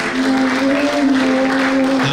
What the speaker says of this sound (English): Let's keep clapping for them as they come.